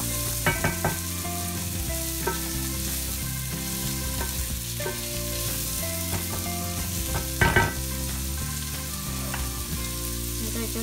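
Prawns sizzling in hot oil for prawn masala, a steady crackling fry close up, with a few brief spatters and stirring clinks.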